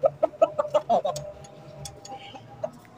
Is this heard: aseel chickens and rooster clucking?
yes